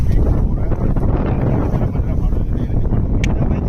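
A Kartar combine harvester runs while cutting a wheat crop in the field, producing a loud, steady, dense engine rumble that fills the whole stretch, with a voice talking over it.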